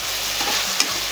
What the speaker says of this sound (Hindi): कुछ अंडा डाल दिली हम फ्राई कर लेंगे। फ्राई कर ले एकरो हम हिला ले।